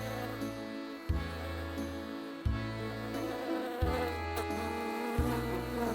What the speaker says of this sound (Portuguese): Uma mosca está voando.